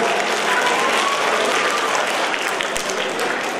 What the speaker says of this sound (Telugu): ఒకసారి చప్పట్లతో ఆశీర్వదించవలసిందిగా అందరినీ